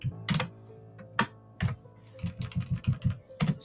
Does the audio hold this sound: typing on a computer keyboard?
yes